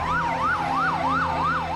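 A wailing emergency vehicle siren sweeps up and down in steady cycles, loud and continuous, over a low rumble of traffic in the aftermath of bomb blasts in Madrid.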